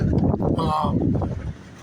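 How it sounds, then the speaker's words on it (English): Strong wind buffets the microphone with a steady, roaring rumble throughout. "Windy out here still"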